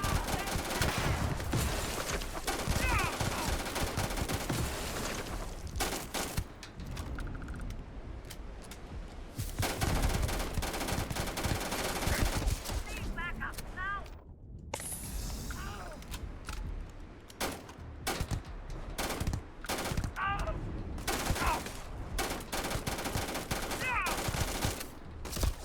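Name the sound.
gunfire in video game Starfield firefight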